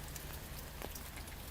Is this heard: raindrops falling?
yes